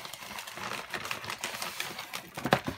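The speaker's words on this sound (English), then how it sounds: "Sorry for the rough rustling noise." Rough crinkly rustling of packaging being handled up close, with irregular crackles and a louder crunch near the end.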